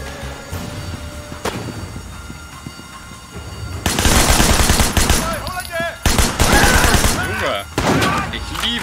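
Guns fire during a hospital shootout in the video game Sleeping Dogs, with rapid bursts of automatic gunfire and scattered single shots, loud and close, while someone talks over the action.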